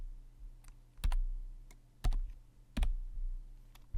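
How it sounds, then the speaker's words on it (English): Keystrokes on a computer keyboard while searching a news database, heard as sparse, distinct clicks: a few light taps and three louder, sharper strokes spaced about a second apart over a quiet background. "simply type in the keyword on your keyboard"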